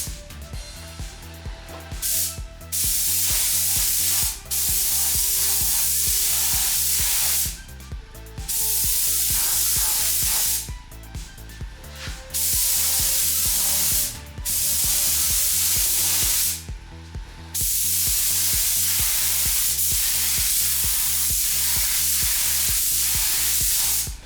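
A spray gun lays yellow paint onto a Morris Minor pickup over grey primer, in loud sustained hissing bursts of a few seconds each, separated by short pauses with low background hum.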